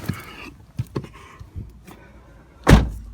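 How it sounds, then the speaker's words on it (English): A Mercedes-Benz CLK500 AMG Sport from 2004 has its door shut with a single solid, heavy thud near the end, after a few faint clicks and rustles inside the car. "Nice solid thud when you close the door."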